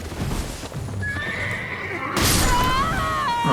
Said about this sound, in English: I got clobbered to death by the horse